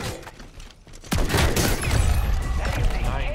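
A loud, dense fusillade of gunshots from a gun in MW3 Zombies erupts suddenly after a quieter opening and hammers on continuously, close and heavy, with a voice counting shots underneath.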